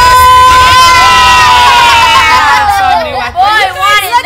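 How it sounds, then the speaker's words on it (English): Siblings cheer loudly over an opened gift, a burst of high excited shouts and squeals from several children that sustains, then breaks into scattered overlapping yells. "You guys are really cheering over underwear."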